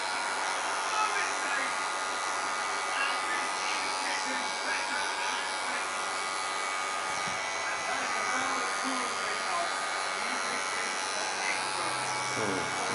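Electric hair clippers buzz steadily while cutting a buzzcut fade, close and continuous, with a person talking over the hum throughout.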